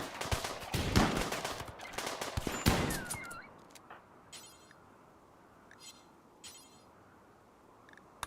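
Rapid bursts of machine pistol fire in a video game, dense and loud for the first three seconds, then fading to a quieter scene with a few sparse, faint clicks and impacts.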